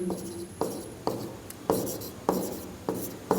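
Pen strokes on paper while working out a maths proof, six repeated bursts of scratchy writing, each starting with a sharp onset and trailing off, close and fairly quiet with no talking.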